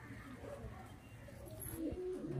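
Murshidabadi Giribaz pigeons from a 70-year-old bloodline, a batch of ten young birds, cooing in low repeated murmurs close by, with a voice speaking over them.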